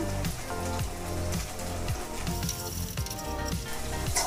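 Ginger garlic paste fries in an iron pan, a steady crackling sizzle with dense popping throughout, close and moderately loud with no talk.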